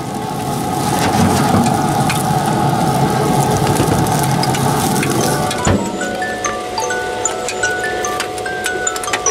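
Steady rain hisses loudly during outdoor grilling while meat is seared, a dense wash of patter that drops off abruptly partway through, leaving quieter ambience with scattered drips and chirps.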